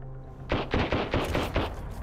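Enemy machine gun firing in Sunkenland, several quick bursts of rapid shots after a short quiet start, loud and close, with no talk over it.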